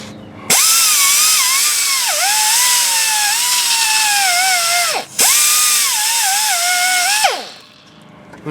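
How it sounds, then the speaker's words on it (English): A wire wheel on a power tool cleans the starter electric cables on a 2002 Ford F150 4.2L V6, a loud whine that dips in pitch under load, cuts out briefly midway, then resumes before spinning down. "Just gonna hit them with the whizzy wheel."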